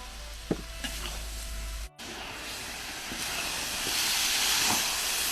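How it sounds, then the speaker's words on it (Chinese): Chicken stir-fried in an iron wok with potatoes and mushrooms, a steady loud sizzle and hiss of frying with a few clanks of the spatula, briefly cut off partway through, then rising. "把土豆还有鹿茸菇给弄进去，炒一炒"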